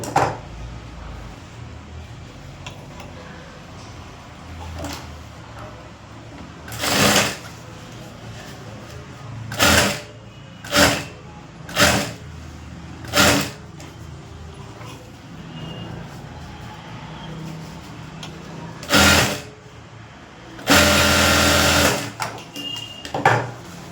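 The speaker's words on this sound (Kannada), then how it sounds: "ಬಟನ್ ಪಟ್ಟಿ ಕಡೆ ಹೋಗುತ್ತಲ್ಲ ಅದನ್ನು ಸ್ಟಿಚ್ ಮಾಡಬೇಕು" Domestic sewing machine stitching a blouse at the button placket, heard in several short whirring bursts of varying length separated by quiet handling pauses, close and fairly loud.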